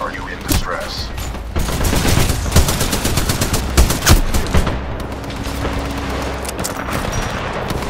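Sustained gunfire fills a Titanfall 2 battle, with rapid bursts and overlapping shots crackling continuously and a few heavier booms standing out, loud and close throughout with faint voices mixed in.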